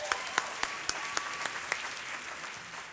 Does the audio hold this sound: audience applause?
yes